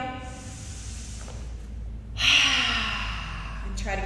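A sharp inhale during a Pilates roll up with hands behind the head, a strong breathy intake rising near the middle and trailing off, close and clear, with faint breath sounds before it.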